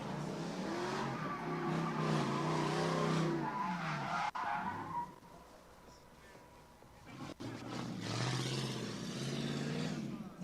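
Lexus drift car skids and squeals its tires at a drift and stunt show, a loud, sustained engine roar and screech that fades and surges back, with a person talking over it.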